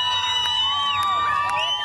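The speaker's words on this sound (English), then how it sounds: "Unarmed crowds chanting "Go home" managed to turn back Russian armored vehicles" An unarmed crowd chants in the main square of Kherson, Ukraine, facing Russian armored vehicles, with many overlapping raised voices forming a steady, dense roar throughout.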